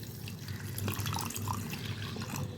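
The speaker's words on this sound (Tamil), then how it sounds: "இது மூழ்கிற அளவு தண்ணி ஊற்றிக்கலாம்." Water pours softly and steadily into a pan of sugar, faint and a little distant, with some light splashing and no talking.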